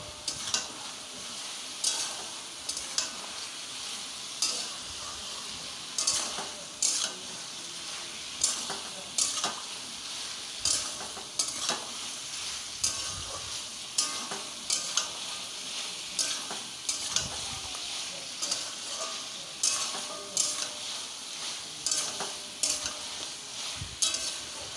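Vegetables sauté in a pan with chili and turmeric powder, a continuous sizzle under regular rhythmic scraping and tapping of a spatula against the pan throughout, close and without speech.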